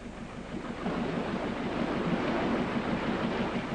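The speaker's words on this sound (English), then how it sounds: "The water rushes in, and out past the ever-patient angler, sitting beside the bridge." Water rushes steadily through an old canal lock beside a bridge, a broad continuous roar with a low churning undertone, close and fairly loud, with no voices.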